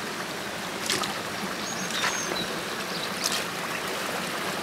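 Steady, full-band rushing of a river flowing along a woodland path, continuous and moderately close with faint splashy accents and no voices.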